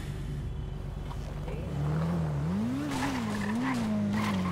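A motorcycle in the game GTA V speeds hard with a steady loud engine drone, then its tone rises and wavers as tires squeal in a continuous skid.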